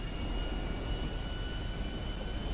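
A large jet aircraft in the video game GTA 5 roars steadily, a dense continuous broadband engine rush with a faint high whine, loud and unbroken throughout with no voices.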